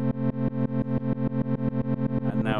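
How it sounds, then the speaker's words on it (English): A synthesizer tone gated by a sine-wave LFO throbs in a steady run of sharp, regular pulses, about six per second, loud and close with no talking, its distorted buzzy timbre smearing toward the end. "that's just the LFO, and now it's just going to slow down in a second"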